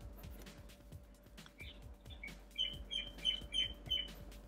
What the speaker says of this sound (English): There's a really aggressive bird that likes to perch on my neighbor's rooftop.